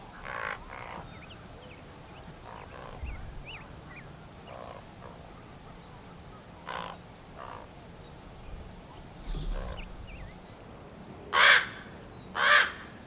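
Baby ravens call out for their parents' attention, harsh caw-like cries scattered across the stretch, mostly faint and distant with two louder, closer calls near the end, over a low outdoor background.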